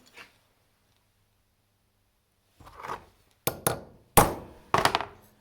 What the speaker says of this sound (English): And make a centre punch mark